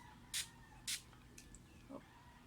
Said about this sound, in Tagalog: So, I have here my water spray. And let's spray this.